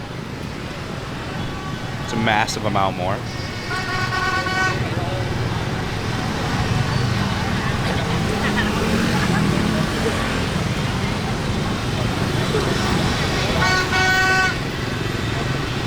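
Heavy street traffic in Saigon, Ho Chi Minh City, Vietnam: a dense steady roar of motorbikes and cars with several car horns tooting, two clear horn bursts early and another near the end, while someone talks over it.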